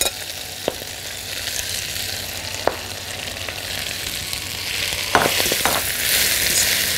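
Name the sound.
spinach sautéing in a pan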